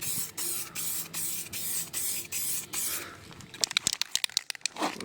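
Lacquer sprays from an aerosol can onto a part for a supercharged Honda NSX build, in a series of short, close hissing bursts, then gives way to crinkling and rustling handling noises.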